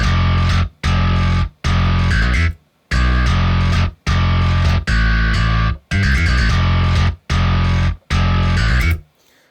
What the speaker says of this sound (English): the next processing option is distortion